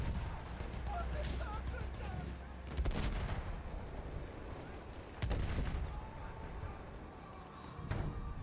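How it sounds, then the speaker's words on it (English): Battlefield 1 battle sounds: a few heavy gunshot or artillery-like bangs, about three, spaced several seconds apart over constant battlefield rumble, with faint chatter and movement in the background. "Why are you shooting us right now?"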